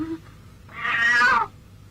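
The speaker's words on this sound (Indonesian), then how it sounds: "Iya, kucing." A single drawn-out cat meow rises near the middle of a quiet scene from a classic Indonesian comedy film, moderately loud against low background hum.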